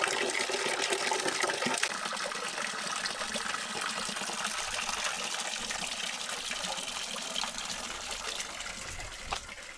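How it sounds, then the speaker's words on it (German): Well water pours and trickles steadily into two buckets as they fill one after another, a continuous splashing gush near at hand with no talking. "Wir haben hier 2 Eimer, die lassen wir immer nach und nach volllaufen."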